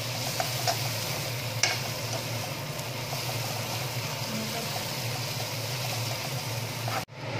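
Dried fish chutney frying in a pan as cumin powder is stirred in, a steady close sizzle with soft scraping under it and a sharp tap near the start, no voices.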